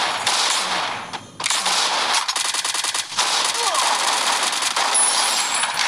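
Rapid automatic gunfire from a multiplayer shooter video game custom match crackles in dense bursts, with a short gap and then a fast rattling volley, loud and close, mixed with a faint voice.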